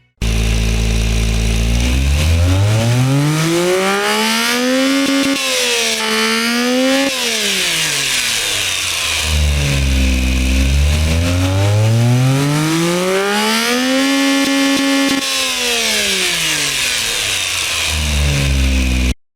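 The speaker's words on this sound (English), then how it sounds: "let's get a hear of this stupidly big turbo engine right now" A turbocharged kei truck engine in the Automation car-building game revs hard for nearly twenty seconds, its loud harmonic whine repeatedly climbing and falling as the throttle sweeps up and down.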